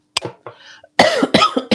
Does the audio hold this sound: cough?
yes